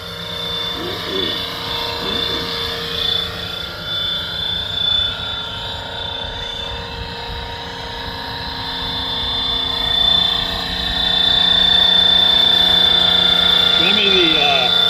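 A scale RC helicopter hovers over the Baylands, giving a steady droning whine with a high rotor tone that swells louder toward the end, with voices talking over it.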